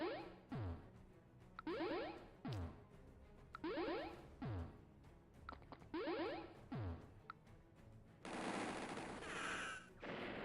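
Rapid bursts of video game gunfire as snipers attack recon units in Advance Wars By Web, repeated sharp volleys in a rhythmic pattern, ending in a sustained noisy blast near the close.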